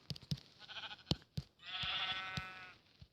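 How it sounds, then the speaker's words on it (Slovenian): Sheep in a survival video game bleat in a long wavering call at mid-clip, with scattered thumps and clicks of game sounds before and after it. "Olej, še ena ovca."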